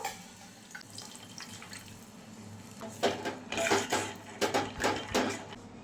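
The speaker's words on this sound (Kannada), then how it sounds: "ಸ್ವಲ್ಪ ನೀರು ಹಾಕೋತೀನಿ." Quiet kitchen ambience, then water pours in several short splashing bursts into a pot, close and moderately loud.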